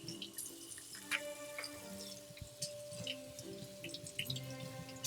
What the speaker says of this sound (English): Now we're gonna do our broccoli and cauliflower. Right, which we just need to rinse first.